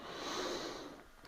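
A single deep inhale during a gentle morning stretching routine for beginners, a steady breath drawn in close to the microphone for just over a second.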